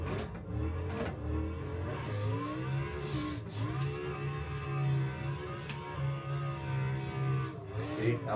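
Race car engine in a racing simulator video game, revving and accelerating through a lap with rising and falling pitch, moderately quiet and steady, no talking.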